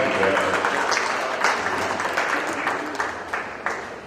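Audience applause at a western spring national horse show, a steady wash of clapping that holds for several seconds with brighter bursts scattered through it.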